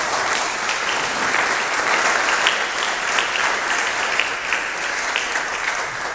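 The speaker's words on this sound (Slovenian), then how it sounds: "mogoče en aplavz za začetek" Sustained audience applause at a Slovenian panel discussion on breaking taboos, a steady wash of clapping from many hands that continues evenly for several seconds with no voices over it.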